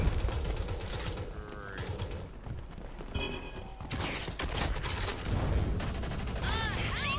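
Gunfire in the online shooter game Rogue Company, a busy run of rapid shots and bursts at close range, mixed with game effects while players talk over it.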